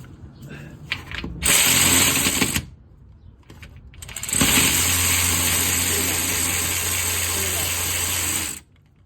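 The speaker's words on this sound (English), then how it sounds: "Get your ratcheting wrench. This is the best tool ever." Rapid mechanical ratcheting on the transmission bolts of a Nissan 240SX with a KA24DE five-speed, loud and close, in two bursts: a short one and then a longer steady run of about four seconds.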